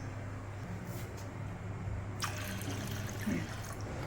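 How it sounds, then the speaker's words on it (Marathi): Water poured onto soaking lentils in a bowl, a soft steady trickle and splash under low background hiss, close and fairly quiet. "अजून थोडंसं पाणी घालणार आहे।"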